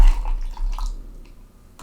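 Coconut water poured into a drink, a short close liquid trickle with gurgles and drips that thins out before a final splash.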